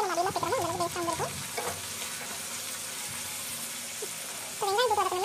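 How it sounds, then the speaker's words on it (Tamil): Onions sauté in a pan for chicken biryani, giving a steady frying sizzle with stirring noises; a person talks over the start and end. "உப்பு போட்டு வதக்கலாம், வெங்காயம் சீக்கிரம் வதங்கிடும்"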